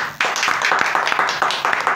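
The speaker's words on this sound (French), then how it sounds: "Et ça, ça mérite vraiment encore des applaudissements." A studio audience on a television talk show claps in a steady rhythmic beat for a musical group, sharp hand claps landing evenly at a brisk tempo, moderately loud and close.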